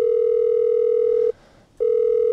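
A steady telephone dial tone loaded into an Ableton Live sampler hums loudly and continuously, breaks off into near silence for about half a second, then resumes unchanged.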